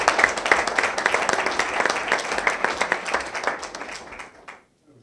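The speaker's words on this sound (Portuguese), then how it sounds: "pedi a todos vós, mais uma vez, uma salva de palmas para o companheiro José Rodrigues" Sustained applause fills a Rotary Club handover ceremony in Amarante, many hands clapping densely at a steady level before dying away abruptly near the end.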